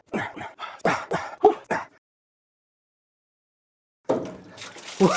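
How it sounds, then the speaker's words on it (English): Leftover water drains from a kit car's cooling system during a rebuild, a short splashing gush that follows a pause after someone talks. "there's a little bit of water left in the system"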